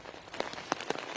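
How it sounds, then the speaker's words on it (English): Heavy storm rain in Thousand Oaks drums on an umbrella held outdoors, a steady close patter with a few sharper drops standing out, faint and without talk. "I'm not sure if you guys can hear the rain kind of hitting my umbrella right now."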